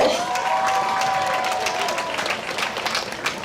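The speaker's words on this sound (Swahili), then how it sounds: "Makofi mengi kwao." An audience at a Form Six graduation ceremony at a girls' school in Dar es Salaam breaks into loud, continuous clapping with some cheering, a sustained crowd roar that eases slightly toward the end.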